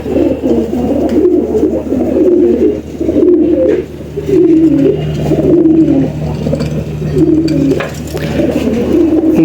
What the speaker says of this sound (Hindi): इसकी चला उठान देखें दोस्तों कबूतर की कितनी प्यारी है।